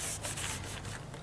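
Hand sanding of a plastic headlight lens, a steady close scratchy rubbing with short repeated strokes and no voices.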